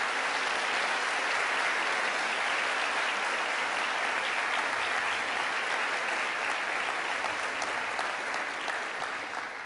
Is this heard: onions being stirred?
no